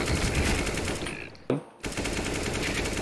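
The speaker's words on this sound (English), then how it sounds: "I'm gonna continue using your pistol until I'm dead." Pistol gunfire in Counter-Strike: Global Offensive, a rapid run of close, sharp shots broken by a brief pause before the firing resumes.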